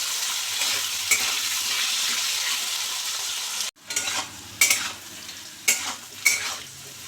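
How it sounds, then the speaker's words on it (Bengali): Salted potatoes sizzle in a pan, a steady bright fry at first, then a short break followed by several distinct stirring scrapes over the crackle. No one speaks. "আলুগুলো ভাজা হয়ে গেছে,"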